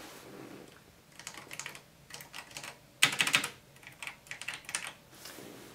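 Typing on the keyboard of a 1980s electric typewriter that uses floppy disks, in irregular bursts of close, clicky keystrokes with short pauses between them and one dense flurry near the middle.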